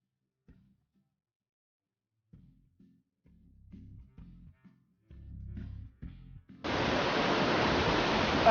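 Waterfall on a mountain in Fulufjället National Park, heard as a loud, steady broadband rush that starts suddenly about two-thirds of the way through, after a stretch of quiet low rumbles and footsteps-like thumps.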